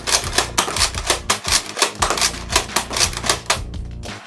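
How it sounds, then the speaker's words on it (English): A Nerf Surge Fire blaster, a 15-shot pump-action toy shotgun, racked and fired in quick succession, a steady train of sharp clacking snaps repeating close and loud for several seconds before stopping. "It's not automatically, it's like a shotgun. You just pull it back down and you shoot."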